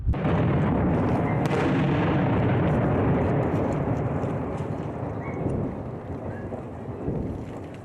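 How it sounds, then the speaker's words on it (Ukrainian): Continuous heavy rumbling booms of a distant Grad rocket artillery barrage near Debaltseve, dense and roaring with wind noise, fading slightly toward the end. "Дебальцево все ще обстрілює з градів."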